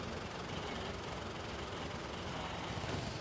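A restored farm tractor runs in a threshing bee parade of tractors in Mankato, Kansas, giving a steady, faint low engine rumble from a distance with no talk over it.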